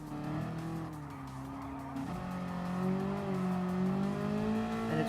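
An IsoRivolta Zagato VGT race car, about 560 horsepower and 1,050 kilograms, corners hard in Gran Turismo Sport, its engine holding a loud sustained drone with shifting pitch under tire squeal.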